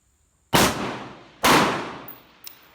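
A single shot from a Ruger AR-556 MPR rifle cracks out loud and close, followed about a second later by a second sharp report of similar strength, then a couple of faint metallic clinks as the sound fades.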